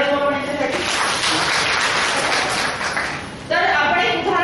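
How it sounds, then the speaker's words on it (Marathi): Applause at a save-the-girl-child workshop, a steady wash of clapping from an audience that holds through the whole stretch, dipping briefly before swelling again, with voices mixed in. "टाळ्या वाजवा यांच्यासाठी"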